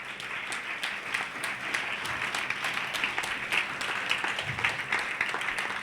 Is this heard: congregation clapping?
yes